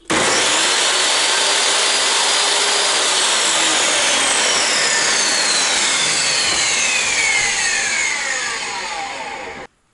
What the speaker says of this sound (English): 15 amp table saw.